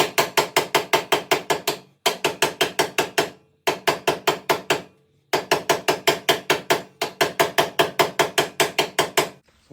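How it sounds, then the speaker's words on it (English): Rapid metallic hammer taps on a trailer wheel hub cap in quick even bursts, close and loud, with brief pauses between runs of strikes. "I just use a hammer, turn the hub, and lightly tap on the cap"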